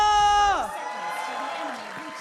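Arena crowd at a Mobile Legends esports match (MPL Indonesia, ONIC) applauding and cheering, a steady broad wash following a short harmonic tone, continuous and moderately loud.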